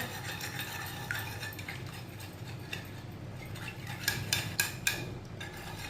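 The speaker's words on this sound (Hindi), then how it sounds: "इसे अच्छी तरह मिक्स करना है अंडों को" Eggs whisked in a bowl with a utensil, a steady scraping stir broken by a few sharper clinks against the side, moderately close and without any talk.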